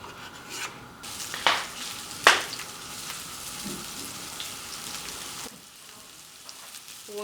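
Onions for a plantain and egg frittata sizzle in a pan with a steady, close hiss, broken by a couple of sharp scraping stirs early on before the sizzle softens.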